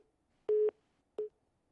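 A telephone line gives two tones after a call drops: a longer beep, then a shorter one, both clear over near silence.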